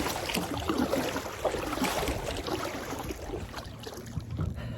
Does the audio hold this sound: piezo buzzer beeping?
no